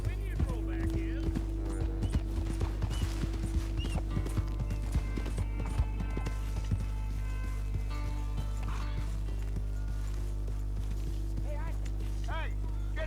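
Horse hooves clip-clop steadily in Red Dead Redemption 2, a close rhythmic clatter that carries on under game voices talking, with a low background drone.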